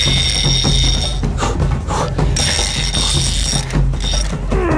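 A fishing reel's drag, screwed fully tight, ratchets in a fast continuous clicking buzz as a big river fish strips line, loud and close, with faint background noise and no talking.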